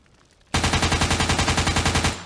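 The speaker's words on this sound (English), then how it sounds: "Knox suddenly flinches as gunshots spontaneously ring out." Machine gun fire erupts suddenly after a quiet moment, a loud rapid string of about twenty evenly spaced shots in steady rhythm, close and sustained before cutting off.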